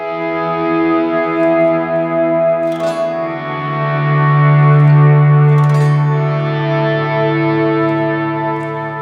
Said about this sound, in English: the 2 delays came on, switched to their Y state, and the reverb switched to its Y state